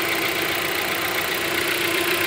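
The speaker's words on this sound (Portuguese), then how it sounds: "Esse motor da Hyundai dá um barulhinho mesmo, tá vendo?" Hyundai Creta 1.6 engine idling with a characteristic light ticking noise, a steady close mechanical hum with rapid fine clicks running evenly throughout, no speech.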